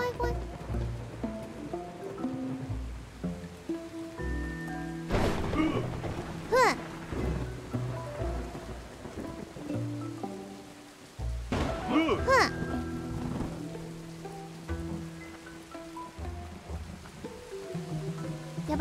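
Thunderstorm in Snufkin: Melody of Moominvalley: steady rain beneath game music, broken by two loud thunder cracks several seconds apart, with a voice speaking around them.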